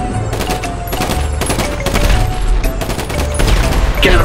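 Rapid gunfire in a Spiderman stunt video game as barrels are shot, a dense, loud, continuous burst of automatic shots with game effects and no clear speech.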